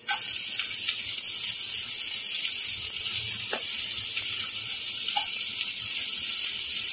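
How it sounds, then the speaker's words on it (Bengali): Chopped onion dropped into hot oil with curry leaves for semolina upma bursts into a loud sizzle at once, then keeps up a steady, close hiss with a few faint pops. "এখন দিয়ে দেবো কুচিয়ে নেওয়া পেঁয়াজটা"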